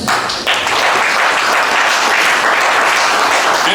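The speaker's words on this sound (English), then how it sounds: "please join me in welcoming the panel members with a great round of applause" Audience welcoming panel members at a talent acquisition event with a loud, dense round of applause that holds steadily throughout, close and full.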